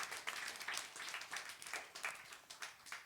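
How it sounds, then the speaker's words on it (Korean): Congregation clapping in thanks during a church service, a short burst of applause with rhythmic, fairly even claps heard from a moderate distance. "하나님께 감사의 박수 올려드리겠습니다"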